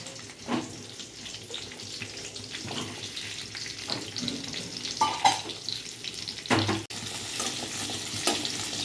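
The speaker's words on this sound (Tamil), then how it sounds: "எண்ணெய் காஞ்சோடனே வெங்காயத்தை வதக்கி வெங்காயம், தக்காளி," Onions and tomatoes saute in hot oil, a continuous close sizzle broken by scraping stirs and a few clinks of a spoon against the pan, no voices.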